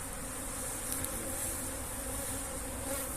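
Dense, steady buzzing of a honeybee swarm, continuous and fairly loud throughout, with no voices.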